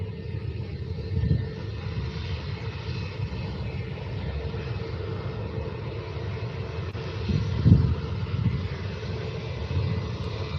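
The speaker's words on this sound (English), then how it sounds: "Oh nice, you got some A340 engines." Airbus A340 jet engines at Faro airport: a steady, broad distant rumble and roar of four engines that swells slightly at moments, with no talk over it.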